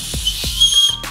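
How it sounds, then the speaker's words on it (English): A small whistle on a paracord bracelet is blown close up, giving a shrill, sustained high tone with breathy hiss. "whistle on it, which is cool"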